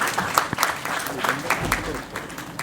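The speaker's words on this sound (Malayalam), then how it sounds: "അപ്പോൾ അതിനുമാകാം ഒരു വലിയ കയ്യടി." Audience clapping at a film trailer launch event, a steady wash of many hands under amplified talk, rising in short bursts and fading toward the end.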